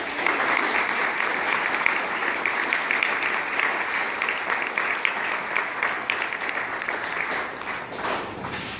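Wedding guests applaud after a best man speech, steady sustained clapping from a sizeable crowd in a reception room, loud and continuous throughout.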